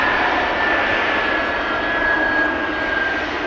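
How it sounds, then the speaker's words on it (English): Boeing 767 jet engines spooling up on a runway at Amsterdam Schiphol Airport, a loud continuous roar with a steady whine on top, heard alone without voices. "Now we're starting to hear the engines of the 767 taking over."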